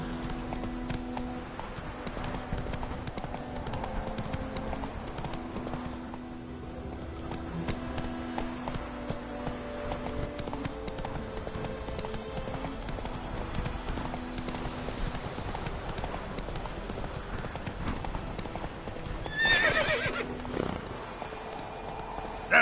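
The horse Roach gallops steadily through a PS4 video game, hoofbeats pounding in a continuous rhythm over a tonal game backdrop, with a neigh breaking out near the end.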